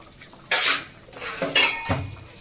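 Barley, vegetables and curd are stirred together in a pan, giving three short bursts of metal scraping and clattering. The bursts are close and fairly loud, with quieter gaps between them.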